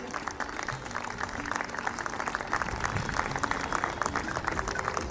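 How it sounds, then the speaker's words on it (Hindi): Sustained applause from an audience at an 8th anniversary celebration in Vadodara, honoring senior citizen volunteers who run a school; steady, dense clapping fills the hall with some background murmur throughout. "जोरदार तालियां।"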